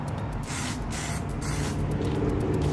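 An aerosol can of Plastidip sprays a wet coat onto a car emblem, a close, continuous hiss with short pulsing bursts as the nozzle is pressed and released.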